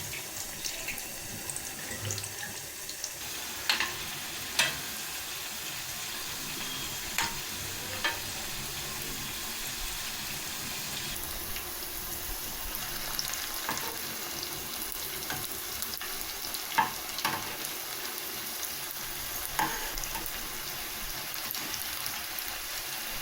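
Cabbage vada frying in hot oil gives a steady, dense crackling sizzle that runs unbroken throughout, with occasional sharper pops standing out close by and no voices.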